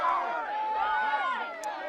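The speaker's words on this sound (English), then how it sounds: "Crowd's getting into it." Spectators at a high school varsity boys' soccer game, Hazen against Green Mountain, make a steady, fairly loud wash of cheering and chatter that holds for about two seconds with slight swells.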